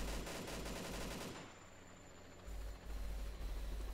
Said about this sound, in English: Okay, that was the last warning shot.